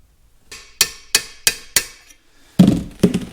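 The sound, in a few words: hammering a roll pin into a tractor shifter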